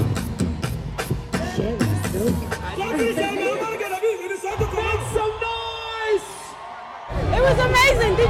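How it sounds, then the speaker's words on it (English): Crowd at Wembley Arena chattering and cheering, with yells and whoops rising over loud voices and music throughout, the noise swelling again near the end; people talk and call out close by. "The crowd was going crazy."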